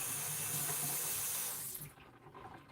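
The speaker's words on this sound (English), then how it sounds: "Turn this water off." Water runs steadily from a kitchen tap, a loud, close hiss that cuts off abruptly near the end, leaving only faint room noise.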